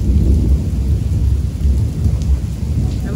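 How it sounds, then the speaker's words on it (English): Heavy pouring rain during a tornado watch roars continuously and loudly, with deep rolling thunder rumbling underneath throughout and no voices. "Oh, it's pouring rain now."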